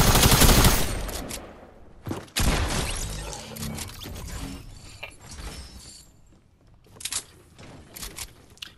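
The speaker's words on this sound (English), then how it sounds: "these SMGs are like the best hack that happened in Fortnite right now" SMG fire in the video game Fortnite crackles in loud, rapid bursts at the start and again in short volleys, mixed with game effects and clatter, with no talking.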